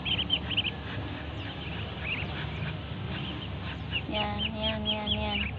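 Ducks quack and other fowl cluck in short bursts over a low outdoor murmur, with a few louder calls near the end.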